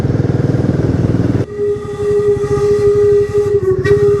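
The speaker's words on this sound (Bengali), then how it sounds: "ট্রেনটা আসছে।" A train approaches on a Darjeeling mountain line, sounding a long, loud whistle whose sustained tone holds over rumbling wheels and rolling clatter, close by.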